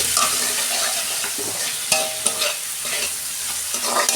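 Spices stirred into pointed gourd frying in a pan, a steady sizzle with scraping stir strokes and a few sharper clinks of the spoon against the pan, close and alone.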